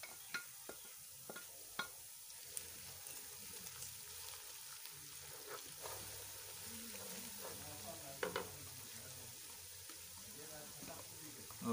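Crushed garlic and ginger fry with onions for a beef and potato curry, giving a soft, steady sizzle in a pan. Scattered clinks and scraping stir sounds come and go, and the whole scene stays fairly quiet and close.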